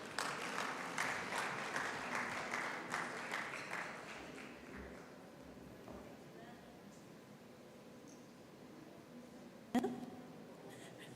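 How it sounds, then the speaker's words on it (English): Audience applause at a Ugandan national journalism awards ceremony honouring the board chair, dense clapping for about five seconds before thinning into a quieter room with a sharp knock near the end. "Round of applause for our board chair, ladies and gentlemen."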